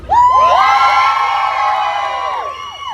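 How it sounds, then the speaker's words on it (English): A loud crowd cheers and whoops at an outdoor pin-up contest at a car show for contestant number 7, shrill voices swelling fast and holding steady before tapering off near the end. "Number 7, cheer."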